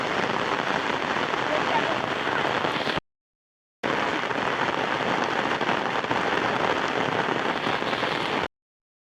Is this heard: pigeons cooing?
no